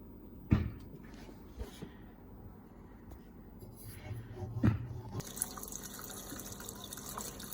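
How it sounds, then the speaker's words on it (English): Water trickles and drips softly with a couple of sharp clunks as a valve is turned during home beer brewing, then a steadier rush of flow begins near the end. "turn the valve slightly and hopefully release some water into here."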